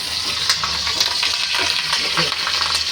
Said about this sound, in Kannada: ಇದಿಷ್ಟನ್ನು ಹಾಕಿ ಚಟಪಟ ಅಂತ ಬೇಯಿಸ್ಕೊತಾರೆ.